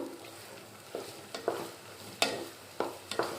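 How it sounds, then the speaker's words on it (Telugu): Onions and green chillies fry in a pan with a steady low sizzle, broken by several sharp scrapes and knocks of a stirring spoon, close and without talk. "ఇది బ్రౌన్ కలర్ వచ్చే వరకు వేయించుకుని"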